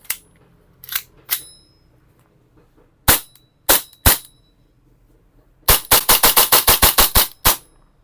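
Sharp pistol-like pops from Tokyo Marui gas blowback airsoft pistols: a few scattered single shots, then a rapid string of about ten shots in quick succession, close and loud.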